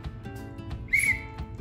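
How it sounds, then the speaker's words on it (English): A single short, shrill whistle blast sounds at a kids' football session to start a seashell-collecting game, standing out over a low background murmur and light outdoor noise. "we are gonna wait for the whistle."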